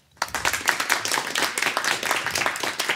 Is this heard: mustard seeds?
no